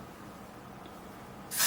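Hairspray is sprayed onto loose strands of hair: a short, loud aerosol hiss bursts in near the end after quiet room tone, close to the listener.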